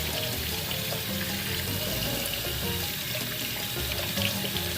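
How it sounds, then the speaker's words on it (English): Peeled tomatillos are rinsed for salsa verde under running tap water, which makes a steady, even splashing rush at moderate volume, close by and without speech. "rinse them off real good and throw them in the pot of water."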